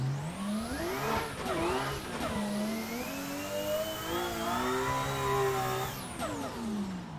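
A BMW M4 fitted with an over-fender wide-body kit revs hard in a racing video game played on a 900-degree wheel, its engine note sweeping up and down through a gear drop into second, loud and continuous with no talk.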